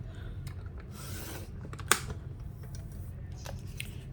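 A straight-blade paper trimmer slicing through patterned cardstock, a short rasping glide of the blade with a sharp snap near the middle, close and fairly quiet over a low steady hum.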